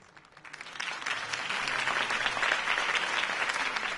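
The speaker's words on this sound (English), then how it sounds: "could have heard that applause" Applause from a crowd in a video game swells up quickly and continues steadily, a dense wash of clapping at moderate volume with no voices on top.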